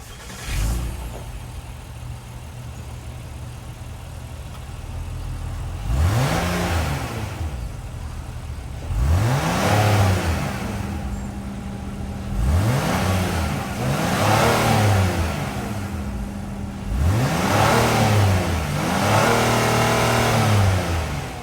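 A 2024 Acura MDX A-Spec's 3.5-liter V6 starts, idles, then revs repeatedly, five or six sharp rising blips that fall back to a steady idle, close and loud with no talking.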